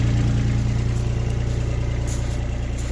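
A Kubota RX202 mini excavator's diesel engine idles steadily and loudly nearby with a constant low rumble and even throb, no voices present.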